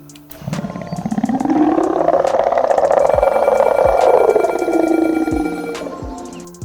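A dinosaur in the Dinosaur Simulator video game lets out a single loud, sustained roaring growl. It swells over about five seconds and then fades, with no talking.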